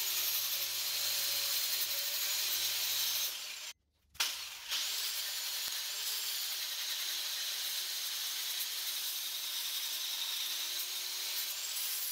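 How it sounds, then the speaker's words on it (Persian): Metal being scrubbed clean with wire brushes and sandpaper while building a homemade tool: a steady, harsh, close-up abrasive whir that runs throughout, with a brief break near the four-second mark and no talking. "بریم با فرچه های سیمی و سنباته مقدار کار تمیزکاری این را انجام بدیم"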